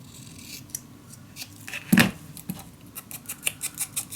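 Scissors trimming a sliver of white paper for a boxed mini album and junk journal: a sharp, close snip in the middle, then a string of light rhythmic cutting clicks over a faint hiss, with no talk.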